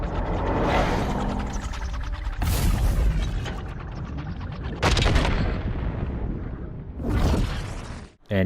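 Gunfire in Black Ops 6 on a firing range, loud repeated shots with sharp booming bursts at irregular intervals and mechanical weapon noises between them, close and dominant with no talking.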